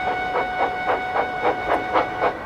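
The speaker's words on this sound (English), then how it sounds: "the switches were mended and Percy puffed back to the junction" A steam engine puffs along the track in a rhythmic, evenly spaced series of chuffs, about eight beats over two and a half seconds, loud and close with a steady mechanical hum beneath.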